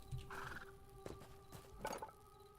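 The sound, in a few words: horse in the video game Hytale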